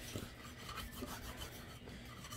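A bone folder rasps steadily back and forth over freshly glued paper in a craft project, a continuous dry scraping with no voices.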